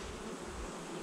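Honey bees buzzing during a hive inspection, a dense, steady swarm drone heard up close and filling the whole moment without talk.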